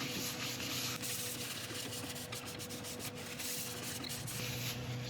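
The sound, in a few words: wiping excess grit off resin woodturning with isopropyl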